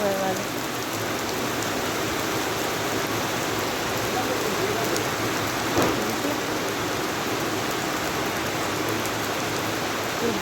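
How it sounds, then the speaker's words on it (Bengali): Heavy rain pours down at a train station, a loud, steady, dense hiss that holds unbroken from start to finish. "জোর বৃষ্টি হচ্ছে"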